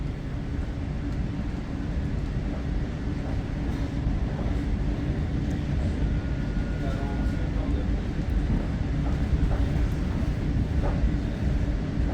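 An Exo commuter train rumbles steadily close by as it picks up speed heading west to Dorval station, a dense continuous roar of wheels and motion that holds strong from start to finish.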